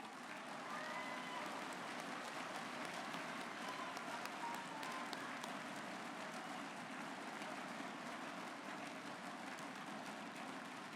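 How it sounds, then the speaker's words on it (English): Audience applause at a national math competition countdown round, a dense, even wash of many hands clapping that holds steady for the whole stretch, fairly soft and heard from a distance, with no voices. "One more round of applause."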